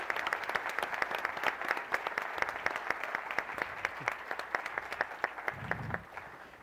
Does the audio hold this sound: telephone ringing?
no